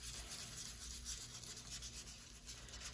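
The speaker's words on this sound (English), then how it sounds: "I'm really going to load up my blending tool right now and just work it on through like so" A blending tool rubs soft pastel across paper in a faint, close, continuous scrubbing hiss with slight back-and-forth rhythm, no voices.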